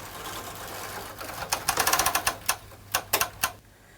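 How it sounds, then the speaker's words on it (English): A Silver Reed SRP60N knitting machine's ribber carriage slides across the needle bed with a rapid run of sharp mechanical clicks and clacks, followed by a few separate louder clacks near the end, close and clear with no voices. "Now move the carriage from right to left to line up all your needles."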